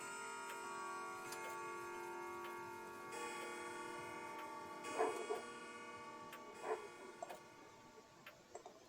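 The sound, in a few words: clock ticking and chiming the hour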